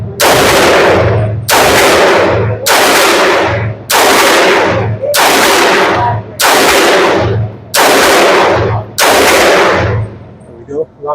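Gunfire from a Maxim Defense PDX in 300 Blackout at an outdoor range: eight loud, close shots fired at a steady pace about every 1.4 seconds, each with a long ringing decay before the next, and a faint clatter at the end.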